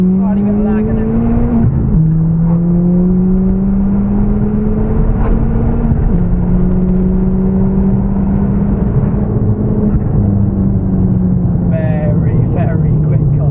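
A 350bhp Ford Fiesta ST accelerates hard from 3,000 RPM, its engine note climbing steadily through the gears with brief dips at each shift, loud and close from inside the car.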